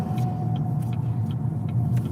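From inside a moving car, a steady road rumble and engine hum carry on continuously, with light rattles and ticks over the drone and no talking.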